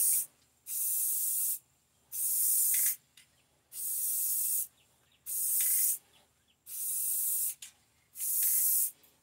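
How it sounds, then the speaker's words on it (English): Aerosol spray paint can hissing onto a rolling tray in six steady bursts, each about a second long and separated by brief pauses, loud and close with no talking. "Then spray the other color on in it."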